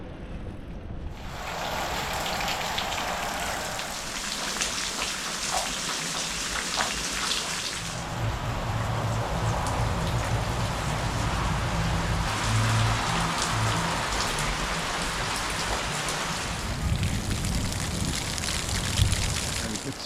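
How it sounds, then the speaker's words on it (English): Heavy, steady rain pours down during a cycling tour through Serbia, a loud continuous wash with lower rumbling underneath that swells and thickens in the middle stretch. "the rain still hasn't stopped. It's only getting worse."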